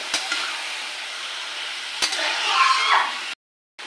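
Mutton pieces for a Khasi-style curry being stirred together in a pan, with a steady frying hiss, scraping strokes and a brief clink, ending in a sudden cut to silence.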